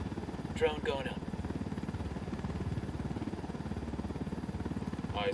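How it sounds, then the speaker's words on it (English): A drone lifts off in the Wildlands video game, its rotors giving a steady, rapid pulsing buzz that holds level throughout, with a couple of short electronic chirps near the start and end. "Drone going up."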